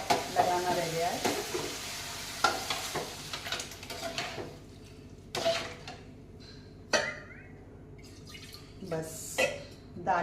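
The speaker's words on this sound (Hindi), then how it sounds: "ये मेरा तड़का लगभग तैयार हो चुका है, बन गया है। बस दाल में तड़का लगाना रह गया है।" Tadka tempering for dal sizzles in a pan in a home kitchen, with stirring clatter and short bursts of frying crackle recurring over about ten seconds at moderate loudness, beneath a faint hum.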